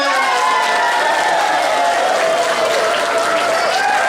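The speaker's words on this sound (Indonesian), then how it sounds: "Tepuk tangan dulu ya." An audience at a school motivational event applauds in a dense, steady burst of clapping with a few cheers, loud and continuous throughout.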